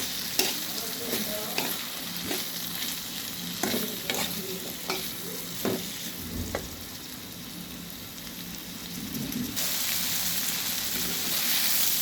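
Coriander powder, salt and other ground spices frying in a pan for a hilsa fish and potato curry, stirred with repeated scraping strokes over a soft, continuous sizzle that grows brighter near the end; no voices.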